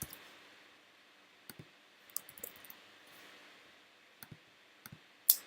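Keystrokes on a computer keyboard come in sparse, quiet clicks, single taps and short bursts of two or three, spread over a faint steady room hiss with no voices.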